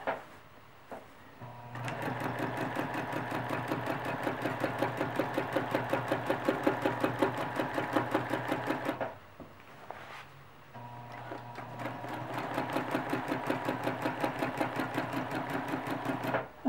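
A sewing machine stitching a quilt along a circular line runs in two long steady bursts of rapid, even needle strokes, separated by a brief pause, close and clear with no talk.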